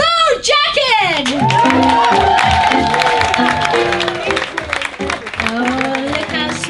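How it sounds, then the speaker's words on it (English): Audience at a speakeasy-style cabaret show applauding and cheering, with whoops and a loud voice calling out over sustained clapping from the crowd. "Keep it clapping, keep it clapping"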